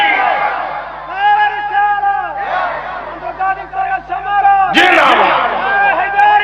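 A large crowd at a religious gathering shouts the takbir response in loud chanted unison, voices rising together in several long swells with a sharp burst near the end.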